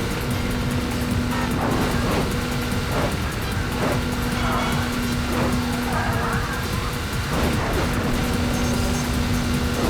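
A racing car's engine in the video game Burnout 3: Takedown drones loudly and continuously, with a steady tonal hum and rhythmic surges, while a voice talks over the gameplay.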